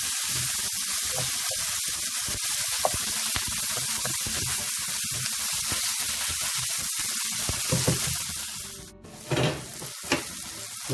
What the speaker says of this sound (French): On remue tout ça et on va couvrir et laisser mijoter à feu doux.